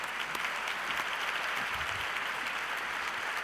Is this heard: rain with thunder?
no